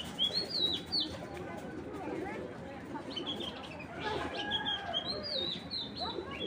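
Racing pigeons of a BRPL-ringed 2024 race line, fitted with race chips and held in a loft, with busy bird chirps and clucking calls layered over a dense steady background of other birds.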